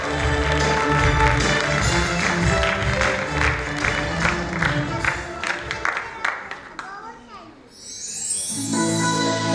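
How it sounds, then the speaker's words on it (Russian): Audience applause at a theatre award ceremony: a burst of clapping under a loud host's voice, breaking into scattered, rhythmic claps that thin out before fading as talk resumes. "Аплодисменты еще раз Фанилю!"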